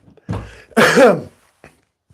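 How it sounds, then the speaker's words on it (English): Two close, harsh coughs in quick succession, the second longer and louder, followed by quiet. "Sorry about the cough, folks."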